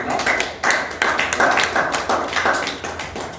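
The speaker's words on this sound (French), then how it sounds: "Est-ce qu'on peut quand même applaudir pour les deux premiers intervenants?" Audience clapping at an art performance festival event in Kinshasa, a steady patter of many hands swelling and holding across the clip, close and fairly loud with no talk over it.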